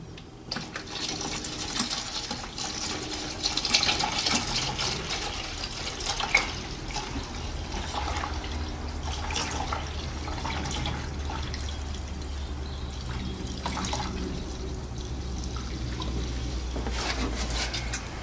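Ready-mixed screen wash pours into the washer reservoir of a 2006 Mercedes B170, a steady liquid gush and gurgle that carries on for the whole stretch, close and fairly loud, without speech.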